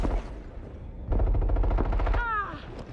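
Gunfire in the video game Rainbow Six Siege, a rapid burst of automatic shots heard close, followed by a ringing electronic tone; a voice or game chatter sits underneath.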